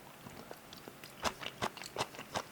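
Green onion kimchi eaten with Chapagetti noodles, chewed close to the mic in a series of soft, moist crunchy bites that grow more distinct toward the end.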